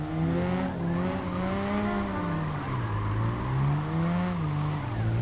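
A VIP-style car drifts around Tsukuba Circuit in a video game, its engine droning steadily with a wavering pitch that rises and falls through the slides, loud and continuous throughout.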